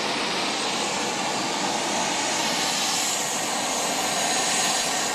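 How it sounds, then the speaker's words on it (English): A Pilatus PC-12 turboprop at Wellington Airport, bound for Blenheim, gives a steady, loud engine roar that holds evenly throughout with no voices. "A little PC-12. This one's off to Blenheim."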